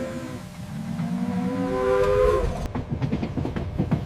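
A train rolls steadily along the rails, a continuous low rumble with rhythmic clicking that sharpens into clattering wheel beats, with a brief tonal whistle-like sweep partway through, no voices.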